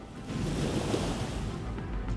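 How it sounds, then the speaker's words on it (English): Tidal water rushing back across the broad bay at Mont Saint-Michel, a steady, loud wash of surf-like surging with a windy rumble, continuous and unbroken throughout. "Water surges back across the bay at astonishing speed, swallowing every route in and cutting Mont Saint-Michel off from the rest of the world completely."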